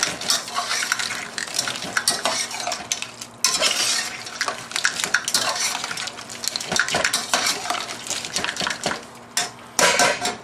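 Lobster Cantonese sauce is stirred around in a pan with a busy run of scraping, clattering utensil strikes against metal over a low bubbling sizzle, loud and close.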